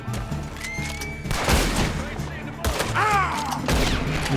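Gunfire in the video game Red Dead Redemption 2, with a few sharp shots and bursts over game ambience, along with horse whinnies and hoof sounds in the mix, while someone speaks over parts of it.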